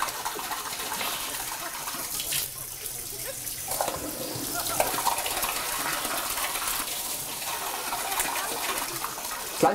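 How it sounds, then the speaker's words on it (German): Tap water runs and splashes steadily for several seconds as a yogurt cup is rinsed in a sink on a TV comedy show set, with brief bursts of louder gushing and a few faint clinks. "Das ist ganz wichtig, dass man den Joghurtbecher ausspült"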